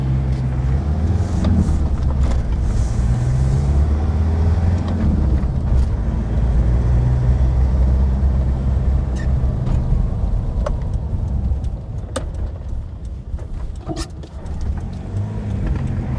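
A remapped Land Rover Defender 2.2 TD4 Puma diesel with a Stage 1 tune pulls through second gear on light throttle, its engine droning loudly and steadily before easing off near the end.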